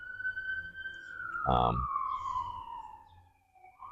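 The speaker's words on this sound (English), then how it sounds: "That's the ambulance coming. Yeah, it's the ambulance coming." An ambulance siren wails steadily with a falling pitch, sounding from some distance, with a short loud thump midway and faint voices underneath.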